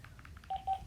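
Short, quiet beeps of phone keypad tones, a few quick dial tones in succession, faint and close.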